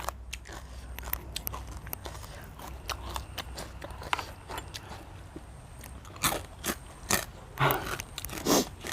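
Crunchy fried chicken skin is bitten and chewed up close, giving a string of crisp, crackling crunches that grow louder and denser toward the end, with no talking.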